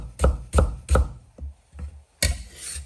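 A knife chops ginger slices on a cutting board: three firm evenly spaced thuds, a couple of lighter taps, then one more solid chop, close and with no talk.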